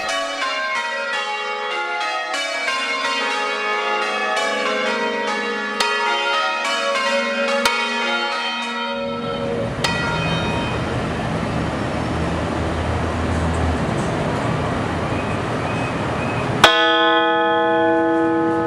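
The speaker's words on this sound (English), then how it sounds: "bell is one of the older, and certainly is the loudest of musical instruments" A large bell scientifically tuned to A440 rings, its many sustained overtones swelling loud and close, then a dense, heavy wash of clanging peals builds, ending with one fresh strike that rings out clear.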